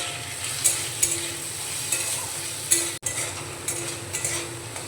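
Chopped tomato stirred in a hot pan, a continuous soft sizzle broken by repeated spatula scrapes and taps against the pan at an uneven pace, close and fairly loud.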